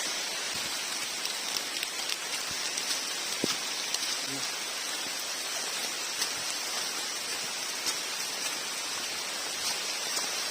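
Heavy rain falls steadily through a dense forest on a solo mountain descent in a windy storm, a continuous close hiss with occasional louder drips and no talking.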